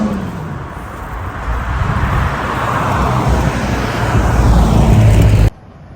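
A new Toyota Supra drives past at the Amelia Island Concours d'Elegance car show, its engine swelling steadily louder as it approaches close by, then cutting off abruptly.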